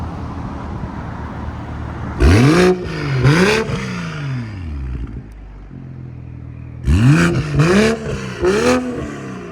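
A BMW M340i's 3.0L engine with a Valvetronic cat-back exhaust, valves open, blips the throttle in two pairs of loud, close revs that rise and fall back to a steady idle, with no one speaking.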